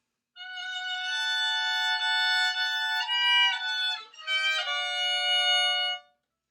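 Two bowed violin lines play a slow melody together in close harmony in thirds, sustained notes changing every second or so, clear and unaccompanied.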